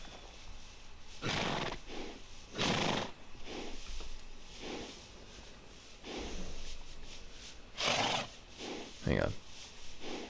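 A horse in the video game Red Dead Redemption 2 neighs and snorts in a stable, with several close whinnies and breathy bursts spread across the stretch and a sharp rising whinny near the end.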